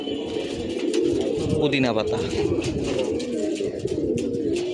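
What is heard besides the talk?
pigeons cooing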